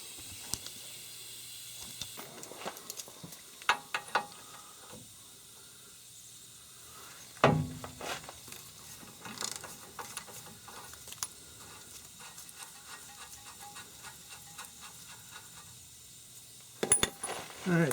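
Ratcheting clicks and metallic clanks from a 1 1/16 socket wrench breaking loose the lower and upper control arm nuts on a 2000 Chevy truck during a hub bearing replacement, coming in scattered bursts with sharp knocks near the middle and end.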